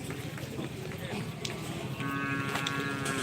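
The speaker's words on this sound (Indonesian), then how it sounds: "Ini sapi dari Jawa kayaknya." Cattle at a Madurese karapan sapi bull race low and call amid a busy crowd, a drawn-out moo rising over steady chatter and bustle in the second half.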